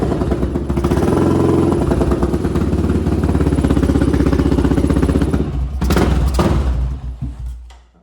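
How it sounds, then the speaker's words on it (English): A Honda 400EX ATV engine runs loud and close, a rough rapid thumping idle that swells as the throttle is blipped, then fades toward the end. "Let's give her some throttle."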